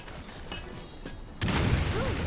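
Resident Evil 5 gunfire in a three-player match: a few muffled shots early, then a loud, dense burst of firing and impacts in the second half.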